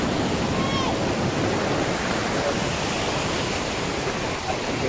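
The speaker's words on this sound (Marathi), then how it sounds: "जबरदस्त अशा लाटा येत आहेत." Sea waves on the Konkan coast make a constant, dense roar of surf close by, with no clear pauses between breakers.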